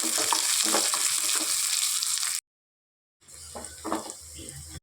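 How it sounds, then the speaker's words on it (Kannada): A tempering of mustard seeds, asafoetida, onion and curry leaves fries in hot oil with a strong, close sizzle and stirring scrapes, broken by a silent gap before the frying resumes. "ಸ್ವಲ್ಪ ಸಾಸಿವೆ ಹಾಕ್ಕೊಳ್ತೀನಿ ಹಾಗೆ ಹಿಂಗು ಹಾಕ್ಕೊಳ್ತೀನಿ ಈರುಳ್ಳಿ ಕರಿಬೇವಿ ಹಾಕಿ ಮಿಕ್ಸ್ ಮಾಡ್ಕೊಳ್ತೀನಿ"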